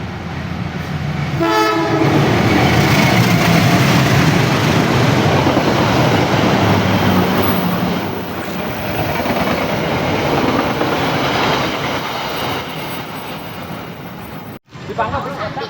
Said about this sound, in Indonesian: Lokomotif CC 201 kereta api Airlangga.